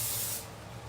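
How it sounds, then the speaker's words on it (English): Cooking spray hisses onto the bottom of phyllo dough for spinach triangles, a single short close burst that fades out within a second, with no talk. "And I'm going to spray the bottom of this."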